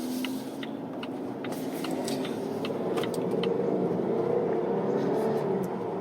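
A Volvo S90 T6 R Design cruises down a city street, heard from inside the cabin as a steady engine and road hum that slowly builds louder, with faint light clicks and rattles on top.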